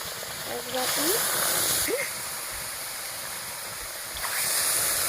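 Milk poured into a pan of lightly fried semolina makes two rushing, splashy pours, one brief and one starting near the end, with a voice talking quietly underneath.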